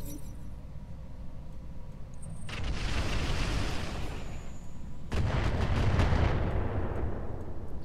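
Mortar carrier firing in the mech combat video game Roguetech, two heavy booming blasts with long rumbling, crackling tails, each rising suddenly over a low background hum.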